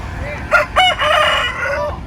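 A caged fighting rooster for sale at a small railway station crows loudly and close by, a broken cock-a-doodle-doo with a couple of sharp rising notes and a long drawn-out call.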